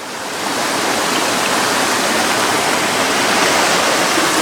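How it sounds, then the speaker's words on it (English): A waterfall on a hillside hiking trail pours with a loud, dense, unbroken rush of white-noise roar, building slightly at the start and then holding steady. "a waterfall."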